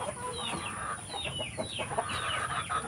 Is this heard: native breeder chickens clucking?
yes